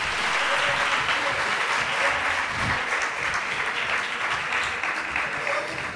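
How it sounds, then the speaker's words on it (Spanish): Audience applause at a poetry slam in Iruñea for a poet who has just debuted, a dense, steady wash of many hands clapping that holds loud for six seconds and tapers slightly at the end. "pues un aplauso para él que ha debutado hoy"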